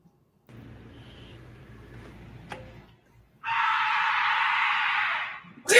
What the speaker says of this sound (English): that's the thing about mountain lions. They literally do sound like women screaming